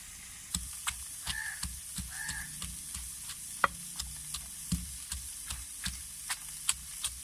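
Cauliflower frying in a pan while being stirred, with a steady soft sizzle under regular scraping clicks of a spoon against the pan, quiet and close, with no talking.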